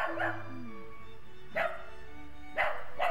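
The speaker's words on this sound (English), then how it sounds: "this dog is wondering who's coming down his street" A dog barks in a quiet street in Arles, Provence, giving three short sharp barks spaced about a second apart, close by, over a faint tonal background hum.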